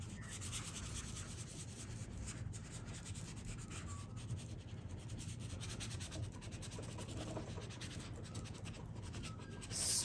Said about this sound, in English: Scuffing that paint off.